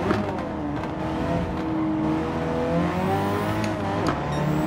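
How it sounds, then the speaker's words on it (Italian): A Ford Focus WRC rally car in Gran Turismo 7 drives a difficult track, its engine note holding and shifting steadily, with faint pops and crackles from the exhaust under the drone. "Sentite che scoppietti!"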